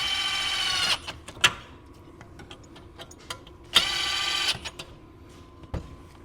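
A DeWalt 3-speed cordless drill on its lowest speed backs screws out of a diesel heater, two short whirring bursts near the mic with clicks and small clatters of parts between them.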